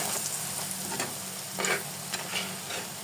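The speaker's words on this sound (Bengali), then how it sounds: "এই যে ইফতারের ভাজা পোড়া শুরু হয়ে গেছে।" Iftar snacks frying in hot oil for Ramadan give a soft, continuous sizzle with occasional brighter bursts of bubbling, fairly quiet and without speech.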